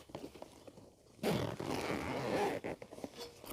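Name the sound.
Velcro tab on a first aid kit pulled open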